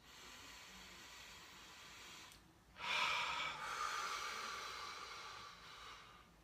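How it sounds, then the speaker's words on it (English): A deep breath taken as part of a guided group breathing exercise: a long, airy breath begins after a quiet stretch and continues with a soft hiss before gradually fading. It is faint and close, with no talking. "Let's take a deep breath together."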